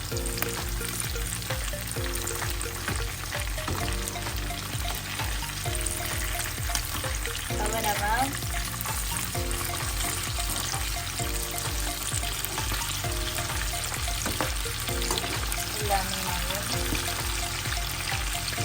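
Anchovies fry in hot oil, giving a steady crackling sizzle throughout with small pops and stirring noises, close and continuous, without talking.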